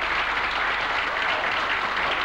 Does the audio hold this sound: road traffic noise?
no